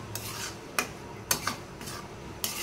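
Banana curry gets stirred in a pot with a utensil, giving a handful of light scraping clinks against the metal at irregular intervals over a faint simmering background, with no talking.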